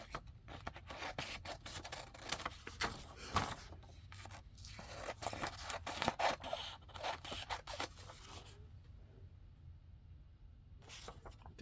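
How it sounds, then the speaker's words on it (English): Scissors cut and scrape through a sheet of jelly print paper with white edges trimmed away, close and fairly quiet, in repeated short snips for about eight seconds before near silence, then one more brief cut. "Gotta cut the white lines off of here."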